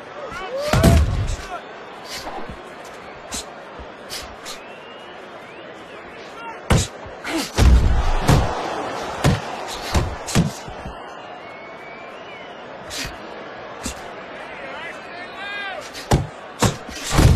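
Punches land during a boxing bout, sharp thuds and slaps scattered through the round, some loud and close, others lighter, under an excited commentator's voice and crowd noise.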